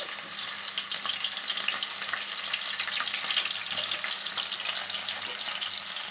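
Green chillies frying in hot oil in a pan with onions, a steady close sizzle and crackle that holds evenly throughout with no talking.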